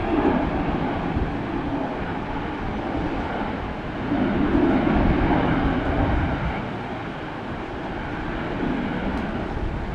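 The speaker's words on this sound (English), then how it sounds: "Very nice landing there." Airliner landing at Brisbane airport, a broad distant roar that swells and fades over several seconds, with no talking.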